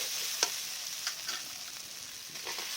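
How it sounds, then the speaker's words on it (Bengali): Boiled potatoes frying in spiced oil, a soft steady sizzle heard up close with a few light stirring scrapes and taps, fairly quiet, with no one talking. "এবার আলুটাকে হালকা করে কষাবো মশলাটা দিয়ে"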